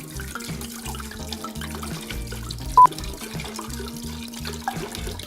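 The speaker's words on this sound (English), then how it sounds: "We're going to pour 2 wine bottles into it." Two bottles of Cabernet red wine poured into a pot for mulled wine, a steady close gurgling splash that runs on without a break and no voices over it.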